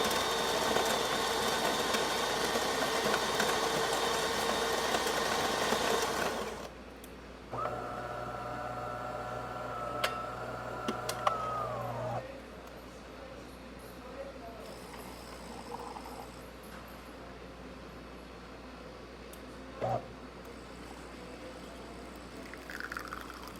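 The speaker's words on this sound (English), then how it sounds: "Nice shot of espresso." DeLonghi PrimaDonna espresso machine brewing a test shot after a full service, a loud grinding burst, then a steady pump hum and hiss as the shot pours, followed by quieter clicks and room noise.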